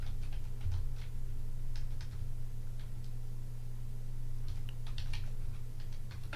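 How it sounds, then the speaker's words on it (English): Fast, light keystrokes on a computer keyboard come in irregular bursts of clicks, close by, over a low steady electrical hum, with no one speaking. "Let me type it in again."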